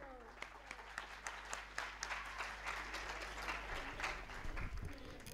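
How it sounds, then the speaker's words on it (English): Audience applause at an international students' graduation ceremony at Andhra University, a steady mass of clapping filling the hall for several seconds, fairly distant and under a low hum, with some voices mixed in. "please welcome her with a huge round of applause"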